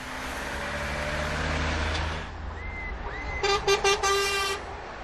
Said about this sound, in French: tous ces gens qui klaxonnent